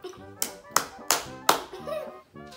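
Four sharp hand claps ring out at an even pace, close and crisp, with a voice speaking between and around them.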